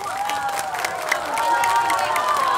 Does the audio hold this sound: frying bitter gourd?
no